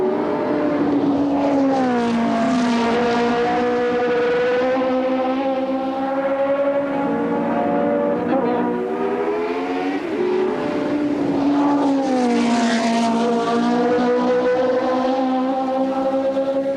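Formula One race cars at the 1970 Spanish Grand Prix, Brabham chasing Stewart's lead, their engines screaming loud and close in two long rising-and-falling passes with steady high-pitched whine and no talk.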